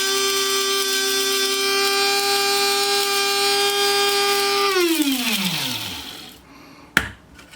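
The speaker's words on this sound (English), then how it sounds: "by putting a small amount of peppercorns in there, it doesn't want to really grind them all up." A small electric spice grinder whirs steadily with turmeric and peppercorns inside, a loud sustained motor hum that winds down and fades out near the end, followed by a brief clack.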